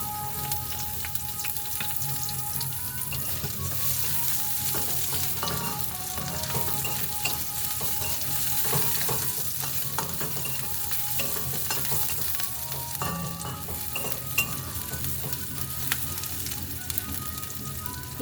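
Sliced onions fry in hot oil in a pan for a kalmi shak dal, giving a loud, steady, dense sizzle with faint stirring, close up and unbroken, with nobody speaking.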